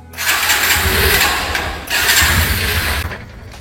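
A 2025 Bajaj Pulsar NS125 ABS motorcycle engine cranks and fires, a loud, close rumbling burst that dips briefly near the middle, then surges again before easing off.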